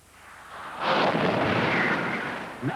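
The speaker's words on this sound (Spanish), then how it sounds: "Un preciso disparo alcanza el punto elegido." A whaling harpoon gun fires at a whale from a boat, a sudden loud blast that swells into a broad, rumbling roar lasting about two seconds before fading, with a smaller thump near the end.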